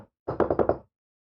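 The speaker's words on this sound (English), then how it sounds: "I knocked on some wood." Knuckles knocking on wood, four quick raps in a tight burst, close and crisp in otherwise near silence.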